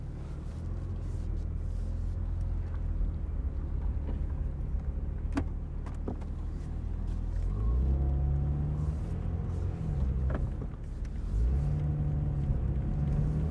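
A 2022 BMW M4 Competition xDrive Convertible drives along with a low, steady engine rumble, rising briefly as it accelerates, with faint clicks and cabin noises heard close by.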